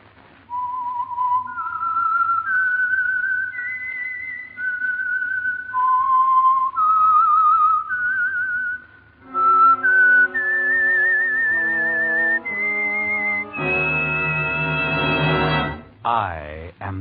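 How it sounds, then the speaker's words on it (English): A melodic signature whistle opens the Signal Oil radio program The Whistler: a lone tune of held, sliding notes, then a fuller orchestral passage carries it on, loud and clear with no talking. "the signal to listen for is this whistle that identifies the Signal Oil program"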